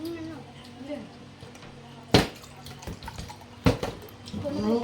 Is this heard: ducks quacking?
no